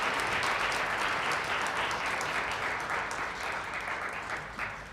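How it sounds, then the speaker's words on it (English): Applause at a school board meeting, a dense, sustained burst of clapping from a roomful of people that holds steady, then thins toward the end. "I have that in here, pause for applause"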